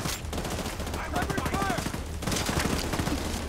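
Sustained automatic turret fire in The Division 2, a dense stream of rapid rattling shots that runs almost without pause for a few seconds, loud and close with a short gap partway through.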